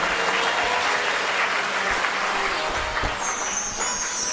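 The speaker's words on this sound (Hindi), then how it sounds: "तालियां बजाना" A crowd at a Hindu religious discourse claps together in a continuous, even roar of hands that swells a little louder in the last second, with no voices over it.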